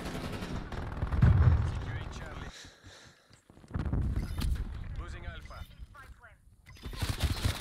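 Bursts of gunfire in a first-person shooter game, a loud booming shot followed by more rattling fire, mixed with players talking over voice chat.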